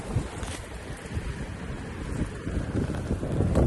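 Steady wind gusting outdoors around a camping stove with a caldera cone windscreen, a continuous low rumbling buffet that swells slightly toward the end, with no voices.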